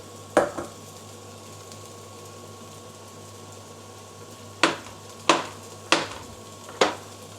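Meat sizzles steadily in a pan while a pasta sauce is being made, a soft continuous hiss broken by several sharp clacks of a utensil against the pan, one near the start and four in a loose rhythm toward the end.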